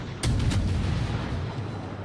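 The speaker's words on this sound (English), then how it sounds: "Trying to see if we can get some damage going here with the 5-inch guns" Ship's 5-inch naval guns firing in a warship video game, giving a loud booming report with a deep rumbling tail and a second quick blast just after the first.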